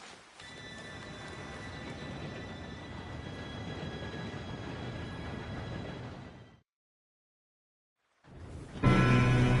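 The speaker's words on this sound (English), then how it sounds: "Train should be here any minute now." Train arriving in the game Red Dead Redemption 2, a steady rumbling roar with a faint high whine, then abrupt silence before a loud burst of sound returns.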